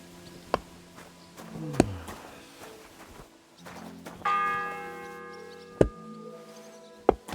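Church bell tolling in the medieval Bohemian game Kingdom Come: Deliverance II, several separate struck strikes spaced a second or more apart with ringing tones lingering between, moderately loud against a quiet background.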